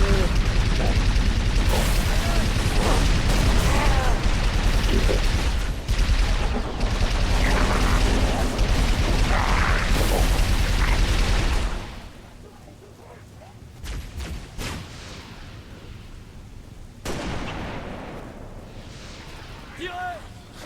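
Gunfire in the video game Halo Reach, a loud, dense barrage of shots and blasts for about twelve seconds, then quieter scattered bursts, with voices calling out over the action.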